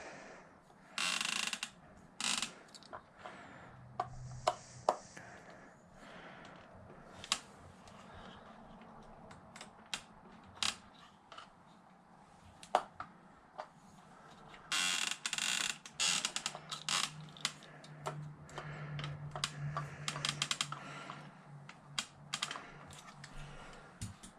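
Small plastic gears of a Traxxas XRT RC truck click and whir in short bursts, a ratcheting mechanical chatter that starts and stops repeatedly, close up and fairly quiet.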